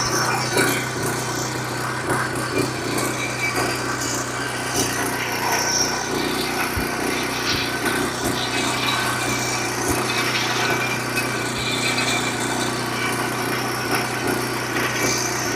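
A power tiller engine runs steadily at close range on a West Bengal farm, its rotor turning. The mechanical drone stays even and continuous throughout, with no voices over it.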